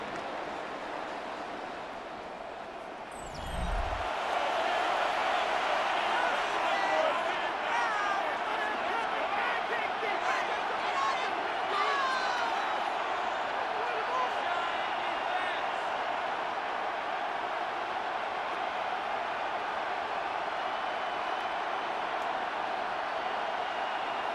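Stadium crowd in the Madden 26 American football video game: a broad, sustained roar that swells after a few seconds and holds steady, with a commentator's voice talking over it.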